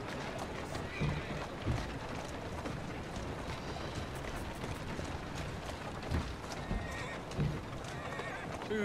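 In Assassin's Creed Syndicate, a horse whinnies loudly over a continuous, busy clatter of hooves, with a few sharper neighs and snorts standing out from the noisy background.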